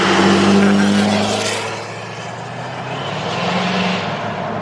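A 1950 Chevy 4400 truck swapped with an LMM Duramax diesel drives past close by, its engine loud at first and then fading as it moves away.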